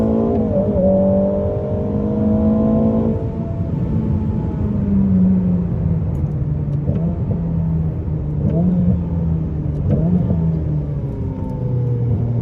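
A 1000 hp Ferrari SF90 Stradale on the Portimão race track gives a loud, close engine note from inside the car, climbing and dropping repeatedly as it accelerates, shifts and slows through the corners.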